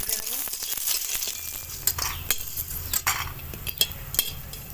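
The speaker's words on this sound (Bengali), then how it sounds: "বড়িটা, একটু লাল লাল করে ভেজে নেব।" Lentil dumplings (bori) frying in hot oil in a kadai, a steady sizzle with scattered metallic clinks and scrapes of stirring over a low background hum.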